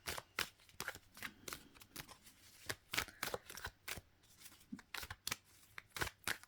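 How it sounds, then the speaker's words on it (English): Crisp riffling tarot card shuffles, a quick run of sharp flutters and snaps repeated in several bursts, close up and alone. "I want to give it a good shuffle"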